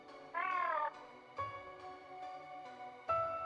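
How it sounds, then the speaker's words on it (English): Small dinosaur in the video game Fate/Grand Order gives a high, wavering cry followed by softer chirping calls, close and alone over a quiet game background. "The small dinosaur slipped from her hands with a cry"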